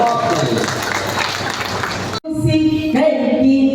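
An audience at a Dainik Jagran event in Robertsganj, Sonbhadra claps in a dense, loud wash that stops abruptly, followed by a voice and tonal sounds.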